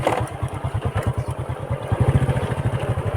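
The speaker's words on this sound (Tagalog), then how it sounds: "Okay pa rin tayo mga par, motor naman to mga par." A motorcycle engine runs steadily at close range on a rural road beside a canal in the Philippines, its rapid, even exhaust pulses thumping continuously without pause.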